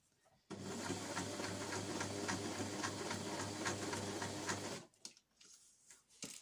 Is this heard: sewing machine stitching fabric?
yes